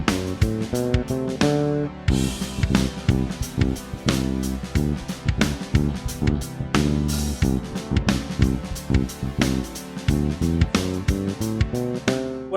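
An electric bass plays a groove ending in an ascending scale run in Mixolydian mode, the low plucked notes climbing step by step in a steady rhythm, heard close and alone.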